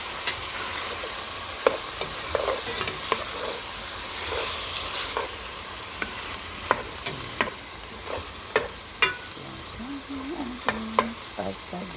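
Ground beef for spaghetti frying in a pan, stirred with a utensil: a soft steady sizzle runs underneath while scattered scrapes and clacks against the pan come irregularly, louder toward the end, with no talking.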